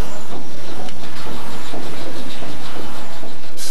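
The steam engine aboard the paddle steamer Waverley gives a loud, continuous hiss with rhythmic mechanical pulsing underneath. It is close and steady, with no talking.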